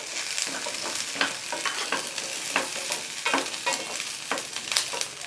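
Garlic cloves and ginger sautéing in a hot pan for village-style mutton kuzhambu, a steady close sizzle with repeated scraping stirs of a spoon against the pan, no voices.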